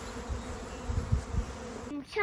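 A swarm of bees buzzing on a farm, a soft, continuous hum heard from a distance, with faint rustling and a brief louder noise at the end.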